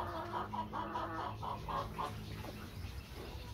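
A Plymouth Rock chicken clucks in a henhouse where eggs are being gathered, a run of quick, soft, evenly spaced clucks close by that fades near the end, with no talking.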